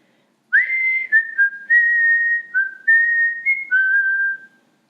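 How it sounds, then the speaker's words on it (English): A man whistles a tune alone outdoors, a clear, close melody of several held and sliding notes in short phrases, with no talk around it. "whistling a tune"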